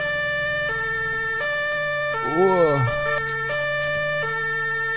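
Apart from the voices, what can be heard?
police car siren in video game Arma 3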